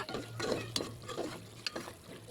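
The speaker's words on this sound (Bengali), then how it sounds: "এখন পেঁয়াজ আর মরিচ ভালো করে কষিয়ে নিব" Onion, chili and spices frying in a pan for egg biryani, with soft sizzling and a few scraping stirs of a utensil, quiet and close.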